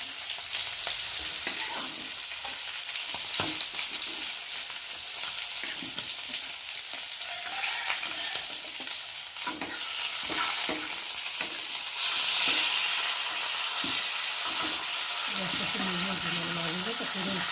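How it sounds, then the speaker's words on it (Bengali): Rohu fish pieces frying in hot oil in a pan, a dense steady sizzle and crackle running loud and unbroken throughout, close up. "মাছগুলো এপিট ওপিট দুপিট করে খুব সুন্দরভাবে ভেজে নিয়েছি"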